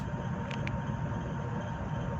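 Freight train hauled by locomotives crossing the Nullarbor near Nurina, a steady low rumble of rolling wagons and engine drone throughout, with two brief higher-pitched clanks early on.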